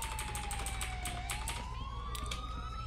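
A police siren chases the player in the video game Grand Theft Auto IV, its wailing tone sliding down and then climbing again over a constant low engine rumble, with sharp clattering bursts above it.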